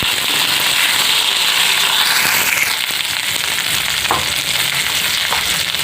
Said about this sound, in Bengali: ফুলকপিটা একটু নাড়াচাড়া করে নেব।